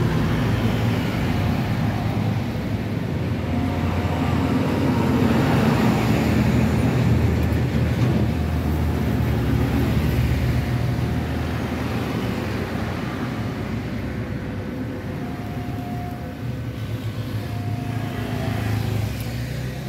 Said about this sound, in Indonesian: Banyak truk gede-gede yang lewat